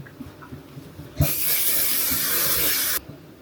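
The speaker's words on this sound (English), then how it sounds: "Then I will just add some shine spray," A single sustained hiss of Colour Wow shine spray misted onto hair, loud and close, lasting nearly two seconds, with soft handling noises before it.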